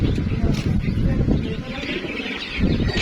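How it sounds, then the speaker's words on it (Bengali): Native domestic pigeons cooing in their loft setup, soft low coos rising and falling under someone talking close by. "এই যে এটা হচ্ছে আমার দেশি কবুতরের সেটআপ"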